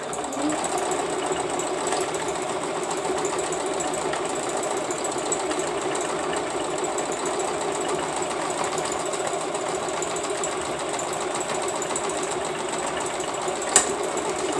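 A sewing machine runs steadily, stitching an applique through fabric and batting, a continuous whirring drone that holds evenly throughout with one brief click near the end and no talking.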